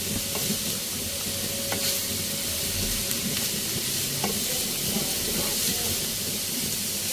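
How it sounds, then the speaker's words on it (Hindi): Vegetables frying in hot oil for fried rice give a continuous, even sizzle at close range, with a few faint knocks of a utensil against the pan. "हम थोड़ी देर तेल में फ्राई करेंगे।"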